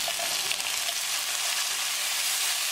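Onions, green chili and tomato fry in a pan for a potato curry, giving a steady, close, bright sizzle with soft scraping as they are stirred, and no voices.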